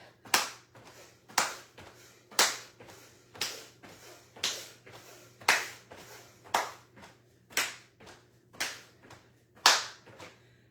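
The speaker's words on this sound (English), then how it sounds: "Clap the hands over the head." Hands clapped together overhead during an early morning yoga calisthenics session: about eleven sharp, close claps at a steady one-second rhythm, heard alone over a faint low hum.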